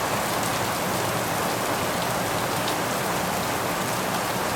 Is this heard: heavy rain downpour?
yes